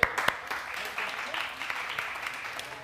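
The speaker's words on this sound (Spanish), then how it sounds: "Fuerte el aplauso para Chepe." Applause from a church audience for a man named Chepe after he answers a Bible quiz question, a moderate patter of clapping that holds steady, with a few sharper claps at the very start.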